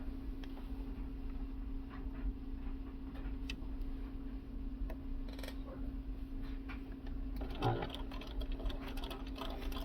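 Sewing machine stitching a quilt block just inside a marked line, a faint steady mechanical hum with light ticking and occasional handling clicks throughout.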